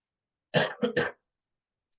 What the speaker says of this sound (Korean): 제가 좀 기침이 나와서